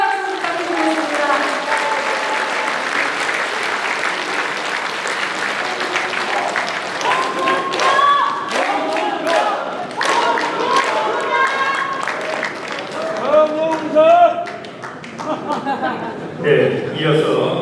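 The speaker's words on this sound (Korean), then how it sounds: "충남 도당을 이끌고 가실 우리 홍문표 위원장님께 여러분 다시 한번 응원의 박수 부탁드리겠습니다." Applause from a party audience in Chungnam, cheering the provincial party chairman Hong Mun-pyo at an inauguration ceremony for the People Power Party; steady crowd clapping throughout with some laughter and talk mixed in, swelling again near the end.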